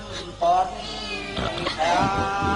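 A cat meows twice nearby, drawn-out and plaintive, with faint background noise and a brief voice in between.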